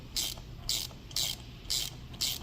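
Ratchet wrench loosening a bent bolt on a BMW boxer engine: five evenly spaced, crisp metallic ratcheting pulls, each a short, close burst of rapid clicks, over a low background hum.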